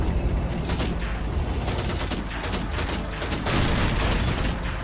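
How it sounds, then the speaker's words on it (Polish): Dense, rapid bursts of gunfire in Call of Duty crackle continuously, loud and close, like automatic weapons in a chaotic firefight. "słyszę strzały."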